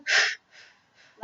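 Breath pushed out forcefully during a Pilates exercise: one strong airy exhale, then two fainter breaths, with a voice starting at the end.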